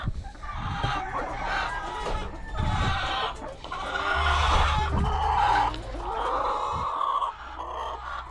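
Pet chickens cluck and squawk continuously up close in a backyard coop with fresh husk bedding, several birds overlapping in loud bursts with no talking.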